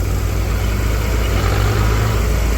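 A tractor engine runs steadily on a farm, a loud, continuous low diesel rumble with no breaks, heard close up and alone without talk.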